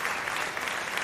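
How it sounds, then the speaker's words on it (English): Brief burst of steady clapping from a small group, fairly quiet and continuous, as a guest is welcomed on a live Saturday night call-in show. "Give him a round of applause."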